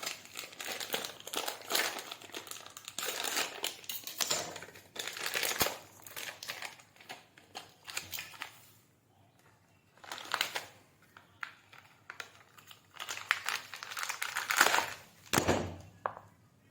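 An idli mix packet is torn open and handled, giving repeated bursts of loud plastic crinkling and rustling with brief pauses between them.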